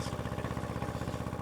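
A Kubota L1801D, a small Japanese four-wheel-drive diesel tractor, idles close by with a steady, even chugging pulse that holds on its own without pause.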